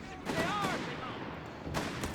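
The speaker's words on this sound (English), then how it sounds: "First shots fired here already by the Western Fuel Point" Gunfire at the opening of a battle in the Company of Heroes 3 strategy game, a rapid fusillade of shots under a commentator's voice, with a second burst near the end.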